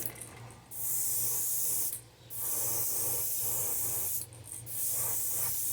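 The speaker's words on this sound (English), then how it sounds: "I need to finish spraying the back of that one" An airbrush sprays paint on fishing baits in long, steady hissing bursts with short pauses between them, close and fairly soft, with no voices.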